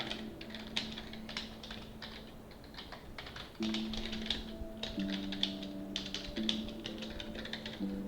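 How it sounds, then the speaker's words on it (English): Rapid typing on a computer keyboard, a steady stream of close, crisp key clicks running the whole way through, with a faint musical tone sustained underneath. "I will type them out for you."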